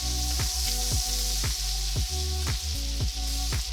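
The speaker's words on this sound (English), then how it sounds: "gonna add our 1 large clove of chopped garlic and 1½ tablespoons of butter" Chopped garlic and butter sizzle steadily in a hot cast iron pan on lowered heat, a continuous close frying hiss with rhythmic scraping strokes of stirring about every half second.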